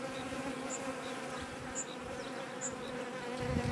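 Honeybees droning steadily inside an open hive, a continuous close buzz with no voices.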